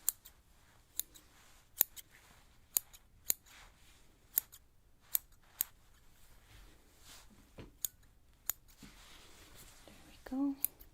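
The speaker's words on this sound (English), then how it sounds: "Then we start cutting." Scissors snipping through hair in a close, quiet hair-cutting roleplay, a dozen crisp individual snips spaced at a steady, unhurried rhythm with faint soft rustling between them.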